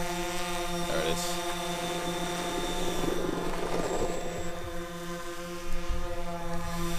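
A DJI Phantom 4 quadcopter drone hovers and flies nearby, a steady, loud multi-tonal propeller whine that holds pitch throughout, with faint outdoor noise and no talking.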